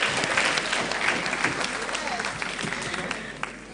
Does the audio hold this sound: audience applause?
yes